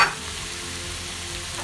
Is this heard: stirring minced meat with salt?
yes